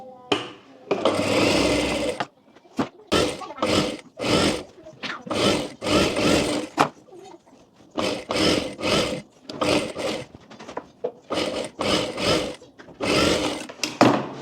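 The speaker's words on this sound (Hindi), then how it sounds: "अब यहाँ पर इसको इस तरह से फोल्ड कर कर अंदर की तरफ एक एक सिलाई लगा लेंगे।" A sewing machine stitches the folded sleeve fabric of a princess cut blouse, running in many short, loud, close bursts separated by brief stops.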